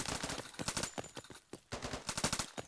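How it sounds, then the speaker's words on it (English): Rapid gunfire at shooting practice, dense bursts of sharp cracks in quick succession with a brief pause midway, fairly close and loud. "Practice your shooting and shit."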